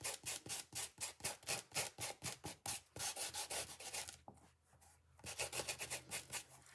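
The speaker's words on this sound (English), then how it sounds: "see how you can bring that back just by sanding it a little bit." A sanding block scrubs a painted gesso background in a mixed media studio, giving rapid, rhythmic rasping back-and-forth strokes close up, with a short pause before the scrubbing resumes and no talking.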